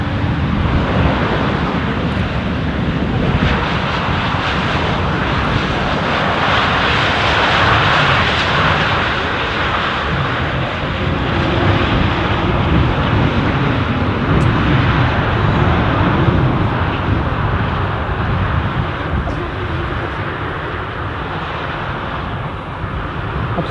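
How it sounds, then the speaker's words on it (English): A WestJet Boeing 787 Dreamliner airliner at Amsterdam Schiphol airport gives off a loud, steady broadband jet roar that holds evenly throughout, with no talk. "This is the WestJet Dreamliner."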